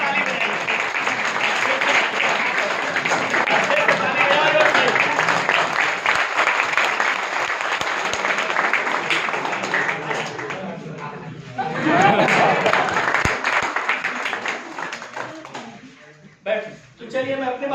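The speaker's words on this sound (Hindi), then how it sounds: "अच्छे से ताली बजाइए।" An audience at a guest lecture at Dr. C.V. Raman University in Kota, Bilaspur claps long and loudly, a dense steady roar of applause with chatter mixed in, fading near the end.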